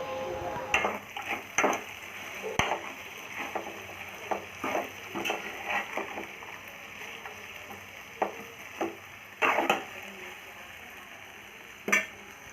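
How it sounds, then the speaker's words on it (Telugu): Okra frying in a pan while garlic cloves are stirred in, giving a soft steady sizzle broken by about a dozen sharp scraping and clacking spatula strokes at an uneven pace, close by and with no talking. "ఇప్పుడు నాలుగు వెల్లుల్లి రెమ్మలు వేసుకొని తిప్పుకోవాలి"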